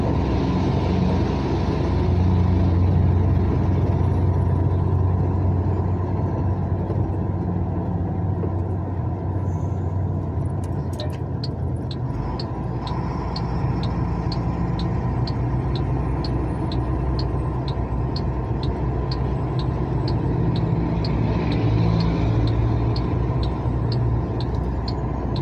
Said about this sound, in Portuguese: Muito veículo, pessoal, muito veículo